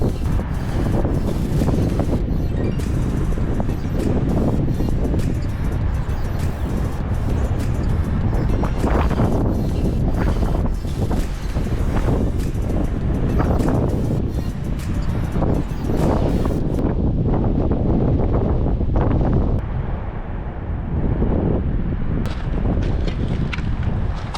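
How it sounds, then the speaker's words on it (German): Strong wind roars continuously beside the Alpine Rhine during river fishing, buffeting the microphone in heavy gusts for the full length with no talk. "aber der Wind kommt von flussabwärts Richtung flussaufwärts"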